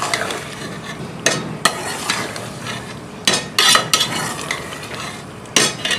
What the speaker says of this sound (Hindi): अब इसकी भुनाई होगी, अच्छी तरह इसकी भुनाई करेंगे।